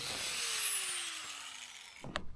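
Cutting through the ends of a steel trailer frame, a steady loud grinding or sawing whine that tapers off near the end, followed by a couple of brief metallic clanks.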